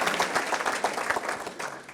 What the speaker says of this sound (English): Real round of applause for Craig.